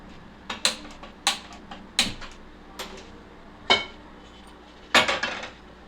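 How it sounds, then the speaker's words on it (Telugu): A metal kadai being set down and shifted on a gas stove burner, producing a series of sharp clanks and clinks of metal on metal at irregular intervals, close and fairly loud. "ఇప్పుడు మనం కడాయి పెట్టుకుందాం."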